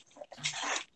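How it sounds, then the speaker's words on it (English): A pet dog makes short, sharp vocal bursts close by during an online role-playing game session, the loudest stretch lasting about half a second before a final quick yelp. "That's my dog."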